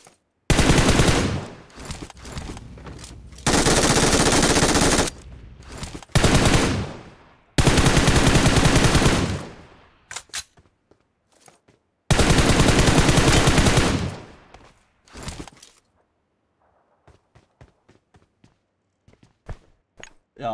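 Gunfire from the PUBG Mobile game comes in several long, loud bursts of rapid automatic fire separated by short pauses, then thins to a few scattered shots and footsteps.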